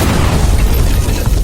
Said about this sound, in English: a massive explosion erupted from the side, tearing through the battlefield in an instant